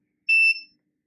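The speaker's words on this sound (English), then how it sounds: "the gas value jumped up to 66, and the buzzer goes off and the LED lights up" An IoT gas sensor's buzzer goes off with a single short, loud electronic beep against otherwise silent surroundings.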